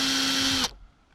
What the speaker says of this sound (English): I'm trying to make the drill bit aligned with the center of the opening and at the right angle